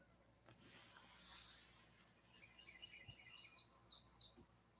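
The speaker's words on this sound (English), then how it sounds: "I can hear the birds singing" Birds sing faintly outdoors on a quiet morning near a neighbor's house, with a run of high, quick chirps and warbling notes after a brief hissing noise, distant and soft.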